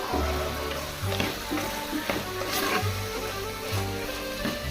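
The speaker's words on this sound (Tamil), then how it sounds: "போட்டுட்டு நல்லா அதை மிக்ஸ் மஷ்ரூம் வந்து இந்த இதோட மிக்ஸ் ஆகுற மாதிரி நல்லா போட்டு" Mushrooms sizzle and fry in oil in a pan for a mushroom biryani, a steady crackling bed of frying with occasional stirring scrapes, close and continuous without talk.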